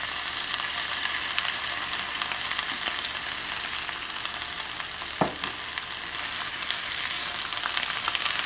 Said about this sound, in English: just let them saute until your vegetables are tender